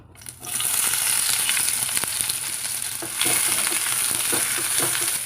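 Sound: onions sizzling in hot peanut oil

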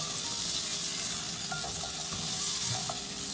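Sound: spices roasting in a pan

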